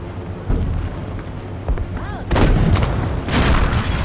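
Thunder-like explosions in Battlefield V: a few deep booming bursts, with the loudest rumbling blasts coming in the second half over a low background.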